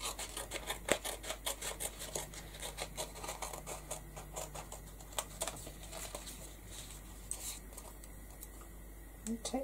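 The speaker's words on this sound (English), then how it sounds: "Cut out this butterfly." Scissors snip out a paper butterfly in a rapid series of short crisp cuts, close and quiet, with faint talk now and then.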